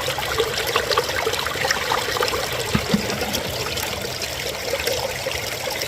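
Water runs steadily through a gold sluice box while prospecting, a close, continuous trickling and rushing flow with a few brief splashy spikes midway.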